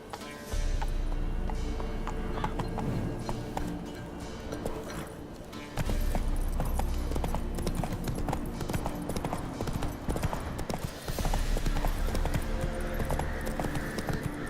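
Roach, the horse in The Witcher 3: Wild Hunt, gallops in a fast, rhythmic run of hoofbeats with a brief lull in the middle. The hooves are loud, close and continuous.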